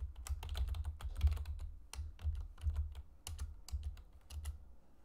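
Rapid keystrokes on a computer keyboard while entering Excel VBA code, an irregular run of crisp clicks with a few short pauses, close and clear with no talking.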